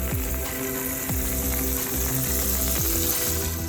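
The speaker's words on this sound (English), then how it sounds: "throw 2 sticks of butter into a heated FireDisc" Two sticks of butter sizzle and fry on a heated FireDisc outdoor cooker for pan-frying panko-coated cod. The crackle is steady and close, with occasional stirring scrapes and no voices.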